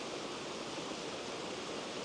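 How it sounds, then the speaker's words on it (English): A small waterfall in Dhoon Glen on the Isle of Man gives a steady, even rushing hiss of falling water, constant and fairly close, with no voices. "there's another nice little waterfall just here"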